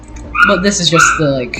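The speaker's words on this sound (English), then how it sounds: "I'm sorry if you can hear my dog in the background." A dog whimpers and yips faintly in the background while a person talks over it, its high whines rising and falling beneath the speech.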